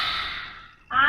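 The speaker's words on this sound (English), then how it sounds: "3 big breaths. Inhale. Exhale." A deep exhale during a yoga class, a long breathy rush of air that slowly fades to near silence, followed by a brief, stronger breath burst right after.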